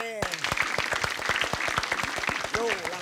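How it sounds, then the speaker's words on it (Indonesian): A television studio audience claps in a dense, lively burst of applause that runs throughout, with a voice talking briefly at the start and again near the end. "Ya hadirin tepuk tangan buat Eis Paradila."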